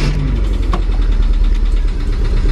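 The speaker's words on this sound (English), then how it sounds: "we're actually gonna start up the car just because it's an old car" An old car's engine idles close by with a loud, low, uneven rumble and a faint knocking texture, continuous through the brief moment.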